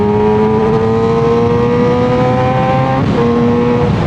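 A 600cc Yamaha sport bike accelerating, its loud, close engine whine climbing steadily in pitch, then a brief dip around a gear change before pulling on again.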